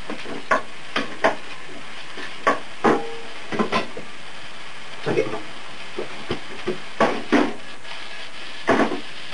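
Meat sizzles in oiled pan with sake, salt and pepper while being stirred, with irregular scraping clatters of a utensil against the pan over a steady frying hiss.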